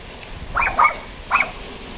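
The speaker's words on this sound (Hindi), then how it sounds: "हाँ भाई, तू भी भौंक ले।" A dog barks three times, two quick barks close together and then a third after a short pause, at a moderate distance, outdoors on a snowy mountain pass in Lahaul, with no other sound around it.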